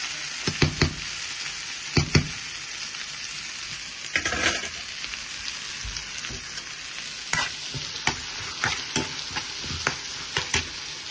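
Onions and added spices fry in a pan in a home kitchen, a steady soft sizzle broken by repeated sharp scrapes and taps of a stirring spoon, with no talk.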